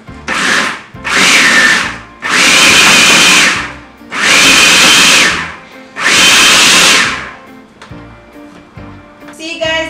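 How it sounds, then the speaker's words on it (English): A food processor blending soaked or boiled mixed fruits for a Jamaican vegan sorrel cake, running in five loud, close whirring bursts of about a second each with short pauses between. "So I'm gonna remove it from my food processor"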